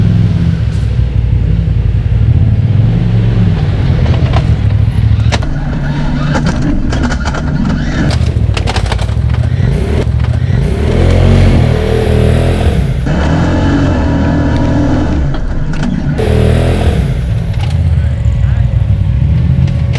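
A turbo UTV drives along an off-road trail in Canada, its engine rumbling and revving up and down close by, with people talking over the machine throughout.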